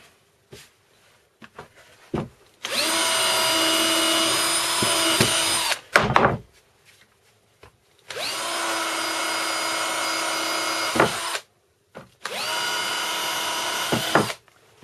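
A power drill fitted with a 4 mm bit bores through a wooden board on a model-building workbench, running in three long steady bursts separated by short pauses with small clicks and handling noises, loud and close.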